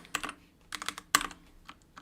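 Uneven bursts of typing on a computer keyboard while entering numbers during a repair of a Frogmouth device, fairly close with irregular clusters of key clacks and pauses, no talking.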